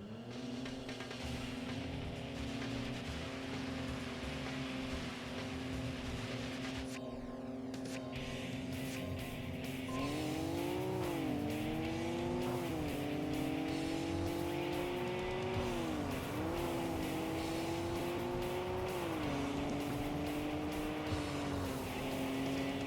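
Race car engine from the PS2 game Tokyo Xtreme Racer 3, a steady loud drone that rises and drops through several gear shifts in the second half, with no talking.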